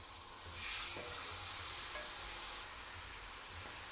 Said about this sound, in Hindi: अब इसके अंदर चिकन डाल देंगे।